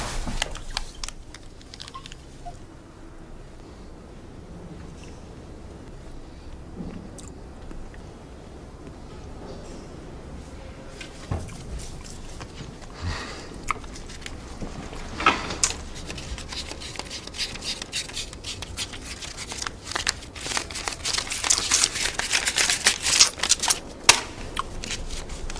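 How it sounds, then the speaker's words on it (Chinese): Paper banknotes are counted by hand in a flurry of crisp flicking and riffling snaps, quiet at first and then growing denser and louder toward the end, close up with no talking. "喜欢数钱，喜欢听数钱的声音，多好听！"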